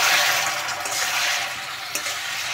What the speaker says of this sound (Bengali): আমি খুব সামান্য একটু জল দিয়ে দিচ্ছি।